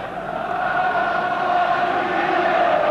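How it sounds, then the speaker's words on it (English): Steady roar of a football crowd at an Oxford United match, a sustained, dense wash of massed voices filling the stadium without letup. "Just listen to the crowd."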